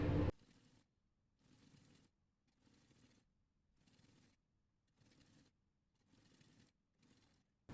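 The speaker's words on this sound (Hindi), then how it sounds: "अब एक सिलाई हम इसके सीधे साइड से लगा देंगे" Sewing machine stitching blouse fabric in short repeated bursts of a few seconds each, separated by brief silences, producing a soft, quiet mechanical whir that is close and heard on its own without speech.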